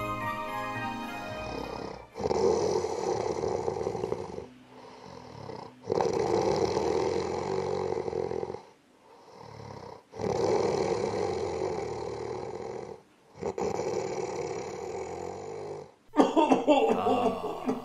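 Loud, drawn-out snoring from Santa Claus asleep under a thick feather eiderdown, four long rumbling breaths separated by short quiet gaps, most likely a voice imitating the sound.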